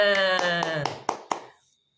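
Classroom applause after a group presentation: a short burst of sharp hand claps, first mixed with a speaking voice and then ringing out alone before stopping.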